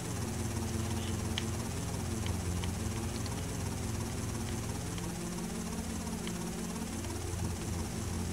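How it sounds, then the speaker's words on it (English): A steady helicopter rotor and engine drone in GTA: Vice City Stories, continuous and fairly loud throughout, with faint clicks over it. "It's moving my helicopter around."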